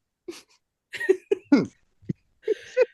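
Several short, harsh coughing bursts in a row, close and fairly loud, with brief gaps between them.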